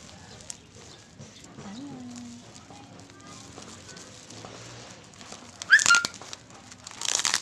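A packaged Mobile Legends T-shirt is unwrapped. Near the end come short, close crinkling bursts of the packaging. Before them, people speak quietly.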